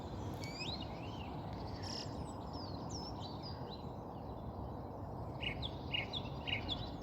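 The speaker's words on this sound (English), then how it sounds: "Wheatear." Wheatear song at an April dawn, mixed with other small birds: several thin whistled phrases and short chirps in the middle distance over a steady broadband background hiss, with brighter calls near the end.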